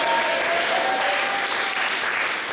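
A church congregation claps hands in a dense, steady burst of applause that continues evenly throughout, with no voices standing out.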